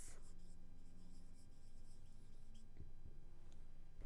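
A pen writes out a geometry proof on paper, soft scratchy strokes coming in quick bursts, quiet and close, with no talking.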